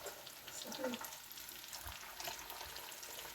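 Peppers fry in a pan with a faint, steady sizzle and occasional soft stirring noises, quiet and continuous under a few light background sounds.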